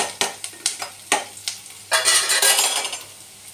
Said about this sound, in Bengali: পেঁয়াজগুলো লাল লাল করে ভেজে নিলাম।